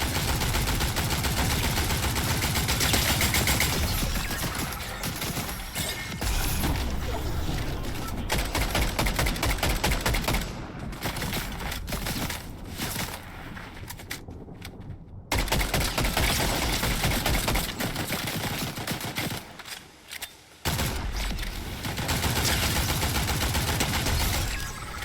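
Rapid bursts of Fortnite gunfire crackle almost continuously, dense and loud, with brief gaps of near silence, while a player talks over the shooting.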